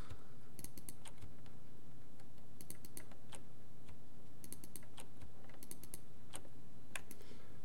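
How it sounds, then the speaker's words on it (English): Mouse buttons clicking at a computer while modeling in Maya 2018, sharp light clicks in small bursts and doubles, scattered irregularly over a low steady room hum. "I'm going to right click the edge, double click, and shift double click."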